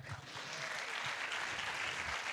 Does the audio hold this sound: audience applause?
yes